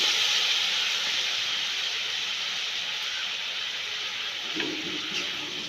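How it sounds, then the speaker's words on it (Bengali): Raw mango pieces going into a hot wok of melted sugar, giving a steady, loud hiss of steam and sizzling that fades slowly over the seconds with no talk. "এইবার আমি এই আমটাকে কড়াইয়ের মধ্যে দিয়ে দেব।"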